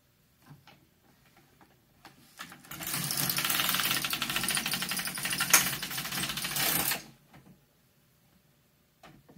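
A domestic knitting machine carriage runs across a single row of ravel cord, a steady whirring, clattering pass of about four seconds that starts and stops abruptly, close and loud, with quiet handling noises before and after.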